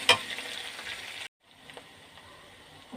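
Garlic, onion and ginger frying in a pan for mung dal, a steady close sizzle with stirring scrapes that cuts out briefly, then resumes more quietly.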